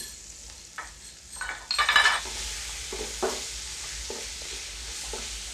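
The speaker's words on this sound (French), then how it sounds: "ajoutez une bonne cuillère à soupe de tomates concentrées." Tomato paste frying with browned spices in a pan for red bean pilau, a steady close sizzle broken by repeated spoon-against-pot scrapes and clinks while it is stirred, with no voices.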